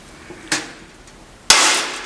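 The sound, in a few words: setting a rivet with rivet pliers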